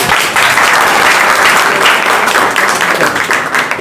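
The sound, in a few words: audience applause before a song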